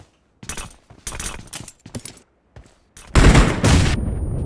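Gunfire from a swap-seat shooter firing from a vehicle in a battle royale video game, bursts of rapid shots in short rhythmic clusters, then a loud sustained volley close up.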